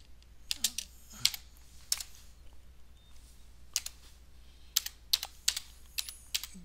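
Sparse keystrokes on a computer keyboard come in small clusters of quiet clicks separated by pauses, close but soft, with no talk.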